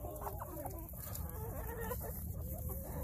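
Brahma chickens in a backyard flock cluck and murmur close by, a busy overlapping run of short clucks and soft calls over a low outdoor rumble.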